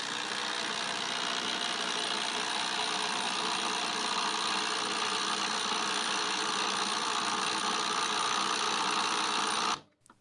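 A Hyper Tough brushless impact driver runs a torque test, giving a steady, continuous high-pitched whir and rattle for nearly ten seconds before cutting off abruptly.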